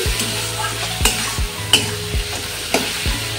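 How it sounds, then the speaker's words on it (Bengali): Catla fish head stirred and fried with spices in a pan, a steady loud sizzle broken by sharp scraping strokes of the spoon about once a second, no talk. "সমস্ত মশলাটার সাথে মাছের মাথাটা খুব ভালোভাবে নেড়েচেড়ে কুক করে নিচ্ছি"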